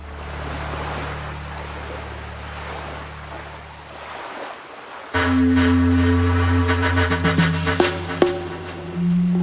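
Surf washes onto a West Coast beach on a calm morning, a steady broad wash that shifts partway through into a louder, busier mix with wind buffeting the microphone and some clattering.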